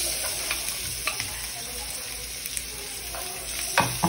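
Onion and garlic frying in coconut butter as the first step of cooking mussels: a steady close sizzle with light stirring scrapes and occasional small pops, no voices.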